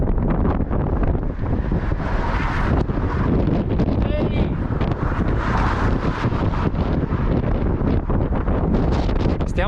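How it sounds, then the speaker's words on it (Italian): Strong wind buffets the microphone while cycling on loaded touring bikes toward a bridge over the Po, a loud, constant roar with gusty rumble, and a voice talks over it. "Stiamo per attraversare il Po e c'è tantissimo vento"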